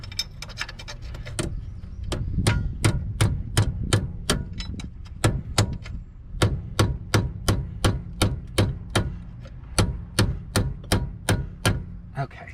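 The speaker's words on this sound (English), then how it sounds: "Let me try to beat this flat here." Repeated hammer blows flatten an aftermarket quick strut part for a 2001 Buick LeSabre Custom front end, struck against a steering knuckle. Roughly twenty-five sharp, evenly spaced metallic strikes ring out up close, speeding into a steady rhythm, alone without talk.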